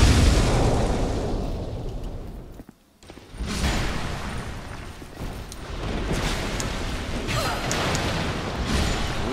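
Explosions from bursting barrels rumble through a Dark Souls II level, a loud roaring blast that drops into a brief silence before more booming and rumbling rises again and keeps going with no talking.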